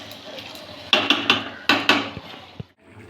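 A metal lid is set over a pan of boal fish curry cooking in a kitchen. Several distinct clanks and clatters sound close by in quick succession, followed by a brief pause and one last small knock.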